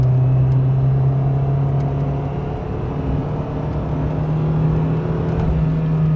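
A car engine hums steadily with a low drone, revving gradually as it pulls through the gears, loud and close with no voices.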